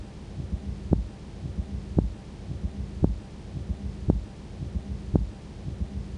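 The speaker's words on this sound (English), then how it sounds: "to me it sounded like more of a knocking sound. It almost sounds like a heartbeat" Dull knocks land about once a second, like a heartbeat, over a low hum in a graveyard recorded overnight. The thuds are faint and regular, with nothing else going on around them.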